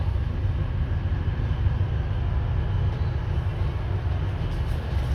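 A train rolling along with a steady, low rumbling drone, heard continuously and fairly close with no voices.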